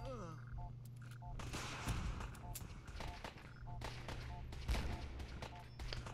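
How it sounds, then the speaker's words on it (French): Repeated explosion and gunfire bursts from the PC video game Fallout 4, sharp booms scattered over a steady electronic hum and beeping sound effects. "Explosions."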